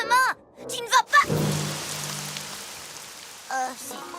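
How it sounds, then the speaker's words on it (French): A cartoon downpour of chocolate milk in My Little Pony: Friendship Is Magic patters as a steady hiss of rain between and beneath brief bursts of animated character speech. "Enfin, cette pluie de chocolat au lait."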